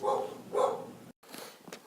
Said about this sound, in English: my dog was just barking